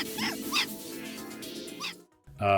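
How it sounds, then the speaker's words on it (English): Dog in the video game Hitman Blood Money giving several short barks and yips in quick bursts, fairly close, followed by a brief pause and one louder final burst. "a dog can be a witness and ruin your silent assassin rating"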